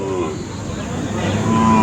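A native-breed cow at a cattle market gives one loud, close, sustained moo that lasts the whole moment.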